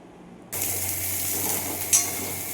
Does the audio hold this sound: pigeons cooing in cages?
no